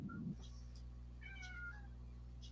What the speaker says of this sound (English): My cat sounds bad.